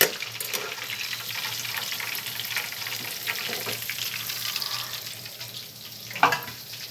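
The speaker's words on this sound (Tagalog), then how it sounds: "Niluluto ko si chicken fillet." Chicken fillet frying in a pan for chicken à la king, a continuous close sizzle with scraping and stirring clatter and a sharper knock near the end.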